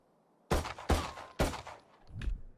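Gunfire from the game Valorant, aimed at a bench or wall, comes as three sharp, echoing shots about half a second apart, followed by a softer fourth burst.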